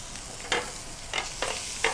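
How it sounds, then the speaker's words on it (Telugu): Garlic, ginger and green chillies frying in a pan for honey lemon chicken, a soft steady sizzle broken by three or four quick scraping strokes of stirring, close and fairly quiet. "కొద్దిగా గార్లిక్ వేసుకుందామండి. ఓకే, కొద్దిగా జింజర్, గ్రీన్ చిల్లీస్ ఇది మంచిగా మనం ఫ్రై చేసుకుందాం"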